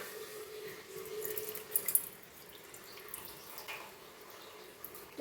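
Water swishes and trickles as grains are washed by hand in a bowl, a faint, close sloshing with a few small splashes and drips.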